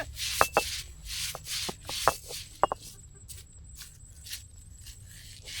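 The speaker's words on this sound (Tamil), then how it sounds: "அம்மியில் கொஞ்சம் கொஞ்சமாக தான் அரைக்க முடியும்" Musumusukkai leaves crushed bit by bit on a traditional ammi grinding stone, giving soft scraping rubs and a few sharp knocks at an uneven hand rhythm, close and fairly quiet.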